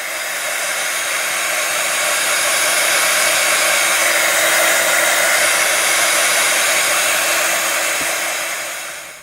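A hair dryer blows steadily and loudly at close range, drying textured paint on furniture being given a shabby chic finish. The roar is constant throughout with no talking.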